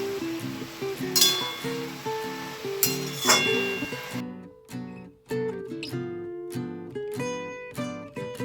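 Used tea dishes and utensils being washed, their metal and ceramic surfaces clinking and ringing in irregular bursts close by, bright chimes against a faint running background, then crisper isolated clinks.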